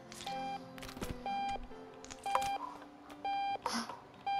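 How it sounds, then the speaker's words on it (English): An alarm clock in the video game Octodad: Dadliest Catch beeping in a repeated series of short, steady electronic tones over clattering game sounds. "I don't see an alarm!"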